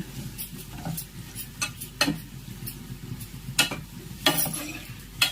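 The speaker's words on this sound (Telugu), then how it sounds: "ఇలా ముక్కలు వేసుకొని ఈ మసాలాలోనే ఈ ముక్కల్ని బాగా ఫ్రై చేసుకోవాలి" Mutton liver pieces fry in a masala base in a pan, giving a steady close sizzle broken by repeated sharp scrapes and knocks of a spoon stirring, with no talking.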